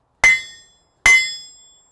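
Two sharp, ringing hammer blows strike hot metal in a smithy about a second apart, each loud and close with a bright metallic ring that fades out before the next.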